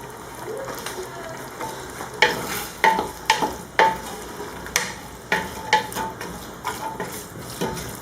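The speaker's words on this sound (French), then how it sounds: "Vous voyez, ça commence à mijoter." White beans in sauce cooking in a pot on the stove, with a steady low sizzle and bubbling broken by several sharp clinks and scrapes as a spoon stirs against the pot, close and moderately loud throughout.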